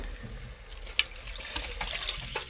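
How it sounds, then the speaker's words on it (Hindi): Milk poured into tea with cardamom, tea leaves and sugar, a soft continuous trickling splash with a small clink near the start, heard up close with no talking. "इलायची, चाय पत्ती और मीठा डाल दिया, अब दूध डालेंगे"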